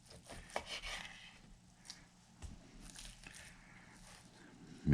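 A kitchen knife slices through raw beef for a slow-cooker stew, producing faint, close, soft scraping and cutting strokes against a board, with a louder knock at the end.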